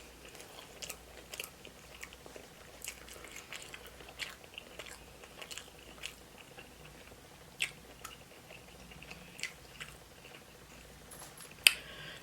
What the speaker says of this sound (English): Sometimes you just have to chew with your mouth open with sushi